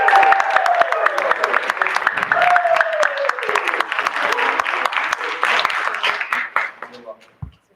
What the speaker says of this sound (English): She deserves a giant round of applause.